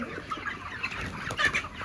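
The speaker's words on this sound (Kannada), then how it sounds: "ಅಲ್ಲೋಡಿ ಕೋಳಿಗಳು ಅಲ್ಲಿ ಊಟ ತಿಂತಾ ಇದೆ" Chickens on a poultry farm, feeding, give a few soft, scattered clucks, faint against a quiet barn background, with no speech.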